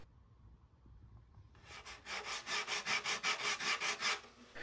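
Wood sanded by hand makes a quiet rhythmic rasp, about a dozen close back-and-forth strokes after a short silent start.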